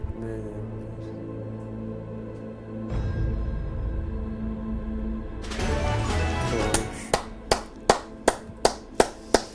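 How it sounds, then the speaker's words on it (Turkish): Rhythmic hand clapping from a contestant on a Turkish puzzle game show, starting slowly after a steady hum, then building into about eight sharp, evenly spaced claps that stand out loudly near the end. "Alkışlamak için açtım ellerimi. İnşallah alkışlarım."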